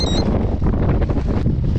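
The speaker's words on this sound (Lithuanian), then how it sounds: "Didelis vėjas labai." Heavy wind at night on a riverbank buffets the microphone with a loud, low rumbling roar, gusting unevenly throughout.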